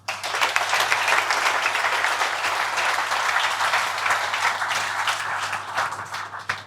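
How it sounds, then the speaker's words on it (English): A full room of employees at a monthly company meeting gives a steady, energetic round of applause, dense clapping sustained evenly throughout with a low electrical hum underneath. "massive round of applause for yourself"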